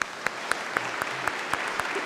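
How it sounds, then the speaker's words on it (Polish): Audience at a farewell gathering for priest Jacek Międlar claps in unison, a steady rhythmic beat of about four claps per second over a continuous bed of lighter clapping. "Brawa dla was."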